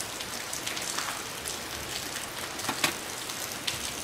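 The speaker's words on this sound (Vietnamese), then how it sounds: "Ui, mưa gió thế này." Steady rain with wind outdoors, a dense even hiss with a few sharper drops and gusts, fairly faint and with no talking.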